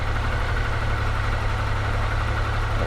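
A 1994 Triumph Thunderbird 900 motorcycle engine idling steadily up close, a continuous low rumble holding an even level throughout with no talk.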